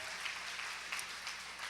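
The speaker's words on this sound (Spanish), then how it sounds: "Denle un aplauso al Señor para nuestros jóvenes apasionados." A church congregation claps together in a sustained burst of applause, many hands at once, steady and moderately distant throughout.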